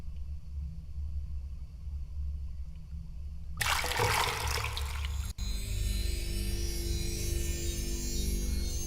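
Water poured from a jug onto a tree in The Journeyman Project 3, a sudden broadband splash-like rush starting mid-clip over a steady low rumble, continuing as a sustained wash to the end.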